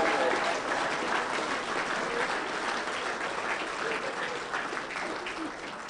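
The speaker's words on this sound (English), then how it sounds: "Round of applause" Crowd applause at a large political rally in Saskatoon, a thick, sustained wash of many hands clapping that holds steady and eases slightly toward the end, with no talking.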